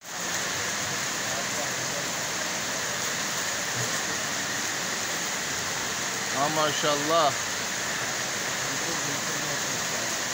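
Steady rain falls in Manisa, Turkey, a constant broadband hiss with no letup throughout, while someone briefly speaks partway through over the downpour.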